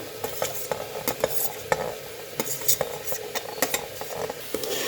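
Capsicum is tossed into a hot pan for a vegetable soup and stirred, producing a bright, steady sizzle punctuated by quick spatula scrapes and taps, close by and without speech.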